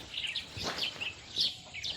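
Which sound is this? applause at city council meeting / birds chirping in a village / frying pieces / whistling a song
birds chirping in a village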